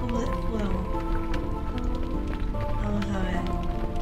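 Steady rain in the Final Fantasy IX video game patters continuously under game music and a voice talking throughout.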